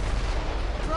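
Ship cannon fire during a naval battle in the video game Assassin's Creed Rogue: a loud, dense, continuous booming rumble with voices mixed in.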